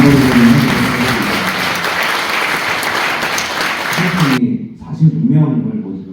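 Lecture hall audience applauding after a talk, dense loud clapping that fills the room for about four seconds and then cuts off abruptly, followed by a speaker's voice.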